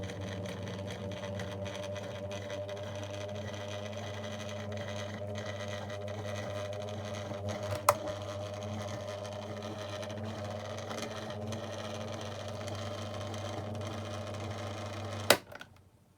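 A 2002 Lloytron F029 9-inch desk fan with a failing, poorly connecting motor runs roughly, giving a steady low hum and buzz with a rattling texture and two brief clicks, close and alone.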